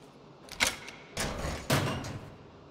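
A door being unlocked in the survival horror video game The Evil Within: two or three quiet clicks followed by two longer latch-and-creak bursts, faint and close, with no talk over them.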